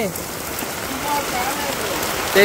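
Rain drums steadily on surfaces in a Bangladesh village in the rainy season, a full, even patter with no pauses throughout.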